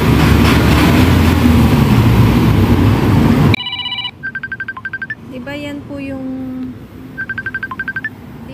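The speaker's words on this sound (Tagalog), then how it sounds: "Diba yan yung tunog ng messenger ringtone nyo?" The default Facebook Messenger ringtone plays on a phone: a series of short, bright repeated chime bursts with brief gaps, heard after loud noise cuts off, with a voice speaking under part of it.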